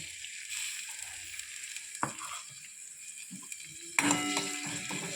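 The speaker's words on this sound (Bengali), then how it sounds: "পেঁয়াজটাকে দিয়ে একটু ভাজবো।" Onions fry quietly in a pan for an egg paneer curry, a soft low sizzle broken by a few sharp utensil knocks and a brighter burst of sizzling near the end.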